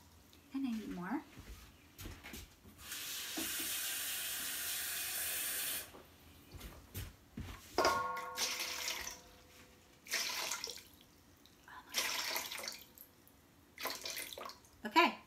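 A kitchen tap runs into a container while water is measured for sourdough bread dough at a baking school, with a steady hiss of flowing water for a couple of seconds, then clattering and handling noises as an instructor talks.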